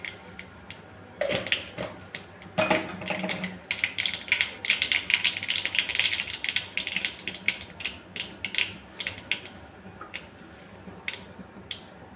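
Mustard seeds spatter in hot oil in a pan, making dense crackling pops that build into a busy sizzle before thinning out to scattered sharp snaps.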